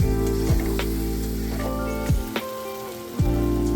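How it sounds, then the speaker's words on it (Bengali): Roasted spices and a spoonful of sour yogurt sizzle together in a pan for achari egg curry, a steady close frying hiss under a low hum, broken by a few scraping stirs. "একসাথে কষিয়ে নিচ্ছি ভালো করে"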